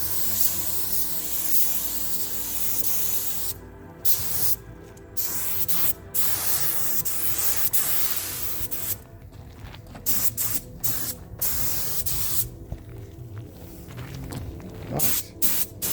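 Spray paint goes onto an Alfa Romeo Mito Cloverleaf for its first coat, loud hissing bursts of varied length broken by short silent gaps, close up and with no talking.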